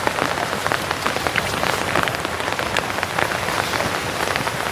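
Steady rain pattering on surfaces outdoors at a farm field, a dense, even hiss of drops throughout with no voices.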